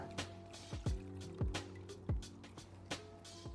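Warm clear water splashes and drips while an air filter is flushed, with irregular wet spatters and trickles at close range.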